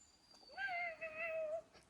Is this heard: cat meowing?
yes